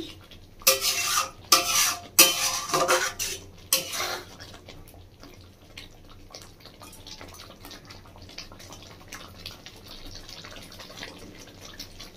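Tomato chutney with lemon stirred in a pan, several loud scraping spoon strokes at the start, then quieter, steady stirring and light clinks with no voices.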